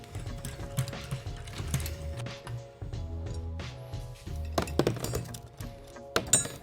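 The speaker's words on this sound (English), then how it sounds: "So let me see if I can get my speed wrench over here, get these out a little bit faster." Speed wrench working bolts out of 1959 Cadillac Eldorado Biarritz bucket seats, a close series of ratcheting clicks, metallic clinks and dull thunks in an irregular rhythm.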